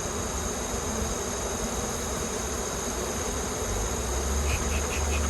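A late-season swarm of honey bees buzzes in a continuous close, loud drone, with a few faint higher ticks near the end.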